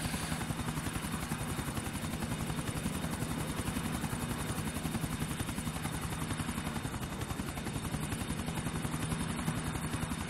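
A police EC145 helicopter on patrol in a video game gives a continuous rotor beat, a fast, even chop over a droning engine hum that stays steady throughout, with no voices.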